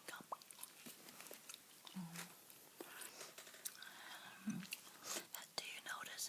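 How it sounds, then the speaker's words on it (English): Fruit Stripe chewing gum is chewed close up with soft, wet smacks and clicks in an irregular rhythm, alongside quiet whispering. "And here's the gum I'm chewing this evening, by the way."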